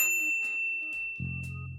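Notification bell: a clear ringing ding with a sustained tone, followed by a short low buzzy tone, with no voices.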